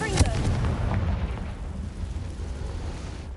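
A Confringo explosion spell goes off in the video game Hogwarts Legacy, a sharp blast at the start followed by a rumbling, crackling decay that fades over a few seconds, with a voice calling out the spell.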